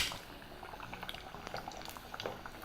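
A pot of water boils for blanching bhajia vegetables, bubbling and popping steadily at close range in a busy liquid crackle with no voices.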